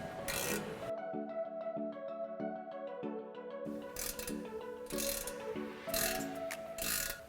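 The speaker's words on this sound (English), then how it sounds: "Go back and tighten all the clamps with a 15mm socket or wrench." Socket ratchet clicking in quick bursts while exhaust clamps are snugged with a 15mm socket on a 2009-2018 Dodge Ram's MBRP 409 stainless cat-back system, close-up, with tonal metallic ringing underneath.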